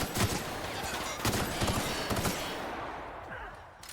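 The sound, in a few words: gunfire, from video game The Outer Worlds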